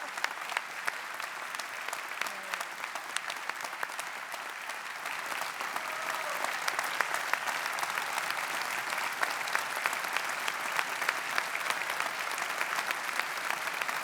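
Sustained audience applause at a University of Brighton honorary graduation ceremony, a large crowd clapping steadily from a distance, swelling slightly midway and continuing without speech.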